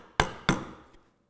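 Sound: chisel cutting into wooden frame saw part

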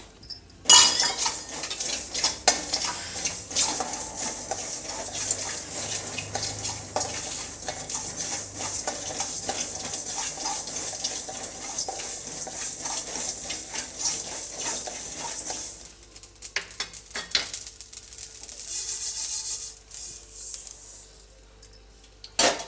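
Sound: mustard seeds added to pan and roasting

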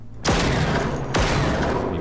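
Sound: sniper gunshot in video game Generation Zero

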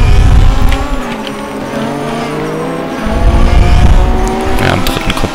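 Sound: race car accelerating at full throttle out of a corner

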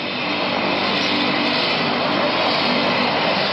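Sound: helicopter of the State of Mexico flying

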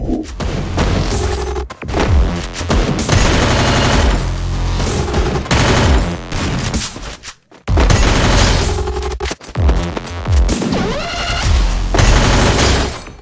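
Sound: gunfire in Free Fire video game

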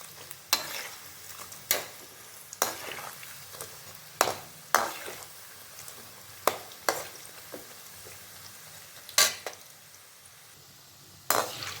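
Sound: onions frying and sizzling in a pan

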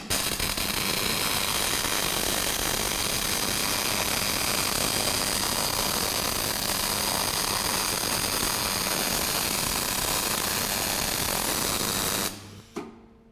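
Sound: MIG welding with reduced wire feed speed

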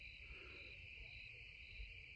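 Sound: crickets chirping

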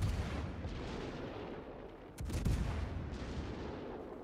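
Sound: warship HE shell salvos firing in a video game

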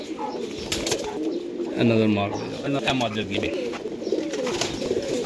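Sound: pigeons cooing

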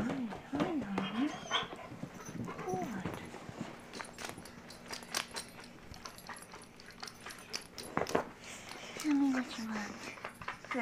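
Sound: dog whimpering and vocalizing

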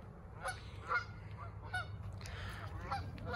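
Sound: duck honking

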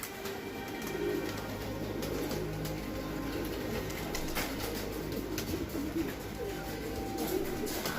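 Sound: pigeons cooing

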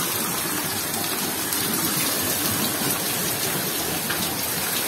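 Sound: heavy rain

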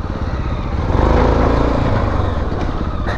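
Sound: MASH X-Ride 650 motorcycle riding on a trail

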